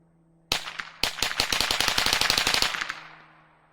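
Rapid bursts of gunfire shooting at targets outdoors: two sharp single shots, then a fast run of about fifteen loud, evenly spaced reports, the echoing blast trailing off at the end, with no talk.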